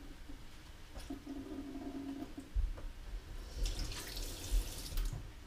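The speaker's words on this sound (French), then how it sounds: "On va bien égoutter le thon." Water drained from canned tuna into a sink, a running trickle and splashing with a few drips and knocks, close and moderately loud, with no speech.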